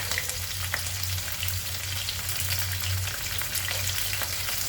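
Mustard seeds, urad dal, chana dal and green chillies fry in hot oil, a busy, loud sizzle broken by crackles and pops. Stirring scrapes and a low hum run beneath it with no voices.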